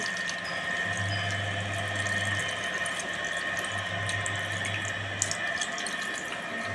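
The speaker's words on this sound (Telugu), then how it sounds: "1 గ్లాస్ వాటర్ అనేది కూడా యాడ్ చేసేసుకుందాం" A glass of water poured into a brinjal masala curry gives a steady, continuous rush of liquid, close and even in level throughout, with no voices.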